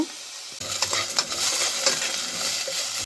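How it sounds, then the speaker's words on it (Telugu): Radish and lentils frying together in a pan, a steady close sizzle with stirring scrapes and clinks throughout after a quiet start, no voices. "ఇవాళ ఒక కైండ్ ఆఫ్ ఎక్స్పెరిమెంట్ లాగా పప్పులతో ముల్లంగి కూడా కలిపి వేయించేయడము"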